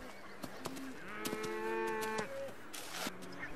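A cow moos in a long, low, drawn-out call, heard fairly distant outdoors on a Hebridean island farm with a few faint background knocks.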